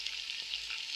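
Onions frying in a pot for mutton pilau give a steady, close hiss of sizzling oil, continuous and even throughout with no voices.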